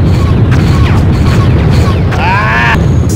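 Loud booming shots and blasts from an Independence Day PS1 game, dense and steady, ending with a whirring, rising tone like a spaceship or weapon charging, with no talking.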